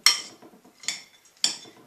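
Raw butternut squash and cranberry couscous being mixed in a bowl: three separate bright clinks of a utensil against the dish, evenly spaced and close, with quiet soft stirring between them.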